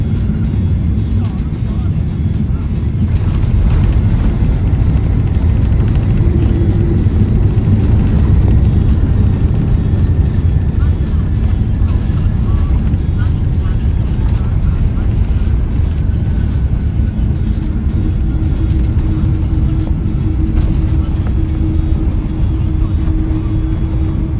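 Inside the cabin of an Asiana Boeing 777-200ER on landing, a steady, loud low-frequency roar of engines and airflow continues without a break.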